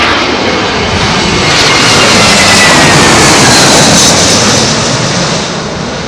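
A heavy airliner lands on runway 27L at London Heathrow in a gusty southwesterly crosswind, its jet engines giving a loud, continuous roar that swells through the middle and eases slightly toward the end, with no voices.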